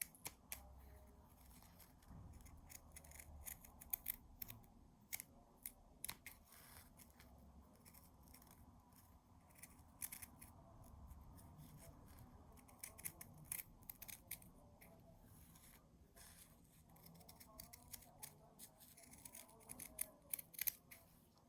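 Scissors snip repeatedly through a foam sponge bar, trimming one edge to about a millimetre during a sponge bar replacement; the cuts come as quiet, close, irregular clicks and crunches with no talking.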